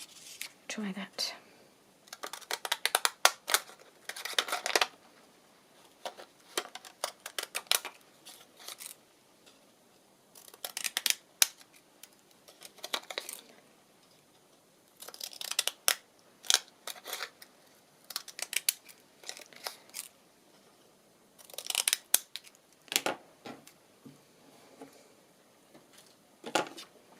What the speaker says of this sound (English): I might cut round it with my little ziggy-zaggy scissors